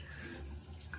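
A bathroom tap runs with room-temperature water for washing a face during a late-night routine, making a steady, close hiss of flowing water with no other sound.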